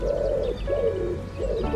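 A bird gives soft, repeated cooing calls in a steady rhythm. The calls are close and clear over a light background hum.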